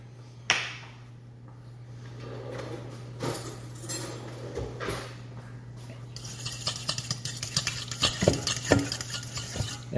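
Tomatoes with a pinch of salt being mixed in a bowl, soft wet stirring and a run of light clinks and scrapes of a utensil that grow busier toward the end, over a steady low hum.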